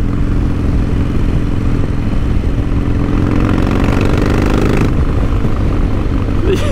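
A Harley-Davidson Sportster motorcycle engine rumbles loud and steady while riding, with a deep throbbing note and wind noise, and a slight shift in tone near the end.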